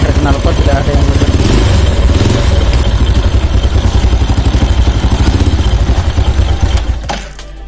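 A motorcycle engine runs close by with a fast, even exhaust pulse and slight clatter, checked at the exhaust for leaks, holding steady before tapering off near the end.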